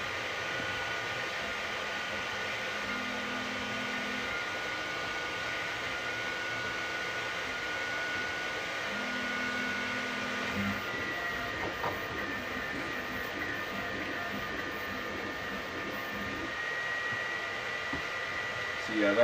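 A Sovol SV08 3D printer runs while printing, a quiet steady mechanical whir with faint stepper-motor tones that change pitch in short bursts, alone without talk.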